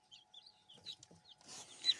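Chickens, black hens with white speckles, give a few soft, scattered clucks and chirps, quiet and fairly close, with a rustling stretch of louder activity near the end and no people talking.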